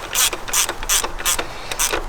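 A ratchet wrench tightens the oil filter housing bolts on a BMW N55 engine in an E70 X5, giving five quick, loud clicking bursts in a steady rhythm, close up with no talking.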